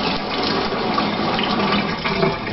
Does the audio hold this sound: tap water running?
yes